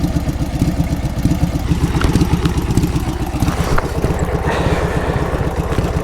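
A Honda CBR 1000RR and a Dnepr MT ride together, their engines making a loud, continuous, rough drone close by with a steady clattering pulse and no talk.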